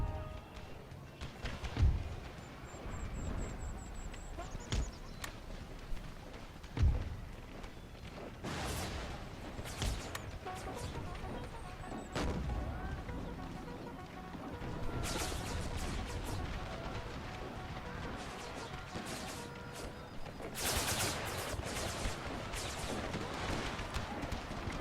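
Battlefield din from an American Civil War video game: scattered artillery booms and crackling volleys of gunfire, several sharp, loud bursts standing out over a steady rumbling mix.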